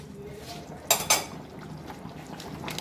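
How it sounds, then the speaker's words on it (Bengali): A lid comes off a pot of simmering mutton curry with potatoes, giving two bright metallic clanks close together, with quiet bubbling and faint kitchen noise before and after. "এবার আমি ঢাকাটা খুলে দেখব"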